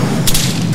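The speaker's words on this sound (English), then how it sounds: "Hey, I'm about to fire a rocket." An in-game rocket launch in Arma 3, a single sharp whooshing blast with a broadband burst near the middle over a steady low rumble of game background.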